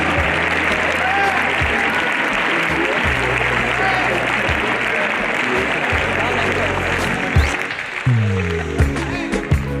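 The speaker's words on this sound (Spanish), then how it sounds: "Palmas, palmas, palmas, palmas, palmas, palmas" Continuous applause from a crowd at a European championship recortes event in Valencia, dense and steady throughout with voices mixed in, easing toward the end as a few louder individual claps stand out.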